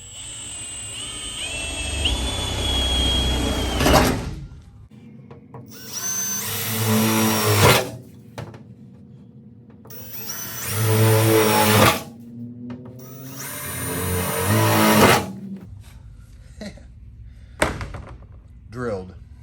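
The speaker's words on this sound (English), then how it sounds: "Let's get drilling." A power drill boring holes in wood, running in several loud bursts of a few seconds each with whining, rising motor pitch, separated by pauses and short clunks.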